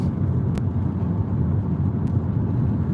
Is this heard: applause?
no